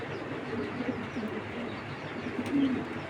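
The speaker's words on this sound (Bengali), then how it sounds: "মাশাআল্লাহ, কবুতরটা প্রচুর স্ট্রং, কালারটা দেখেন।" A racing pigeon coos close by in soft, low repeated calls over a quiet background hum.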